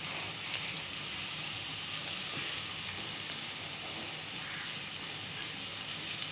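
Eggless cabbage pakoras fry in oil with a soft, steady sizzle, quiet and continuous with no voices over it.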